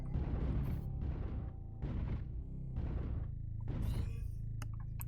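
PPC weapons fire in MechWarrior as four heavy, booming energy blasts, evenly spaced about a second apart and each fading quickly, with no talk over them.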